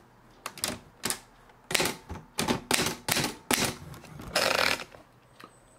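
Keys clack on an Underwood 21 manual typewriter bought at a thrift store, a series of sharp, close strikes in uneven bursts, ending in a longer rattling run and a small bell-like ping.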